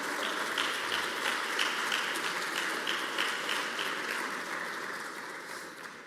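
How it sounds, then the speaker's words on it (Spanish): Church congregation applauding, a dense, sustained wash of clapping that stays steady for several seconds before easing slightly, with no clear talk over it. "Denle un aplauso fuerte al Señor."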